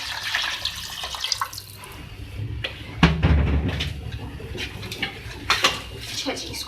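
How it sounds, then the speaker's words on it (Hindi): Glasses of water go into a pot of rice for aloo tahari: close, loud splashing and gurgling with sharp metallic clanks of the pot and utensils, in several uneven bursts in a home kitchen. "ठीक है, इसमें मैं 4 गिलास पानी ऐड कर रही हूँ।"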